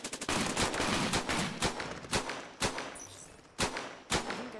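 Rapid gunfire in the shooter game Cepheus Protocol, a sustained burst of close, loud shots at first, then separate sharp cracks spaced out over the following seconds.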